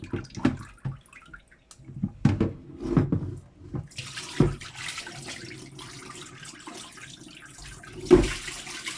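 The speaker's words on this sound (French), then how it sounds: "On va le laver 2 à 3 fois le riz." Cold tap water runs and splashes intermittently into a bowl while Japanese rice is washed, with quiet sloshes and a few louder bursts near and close.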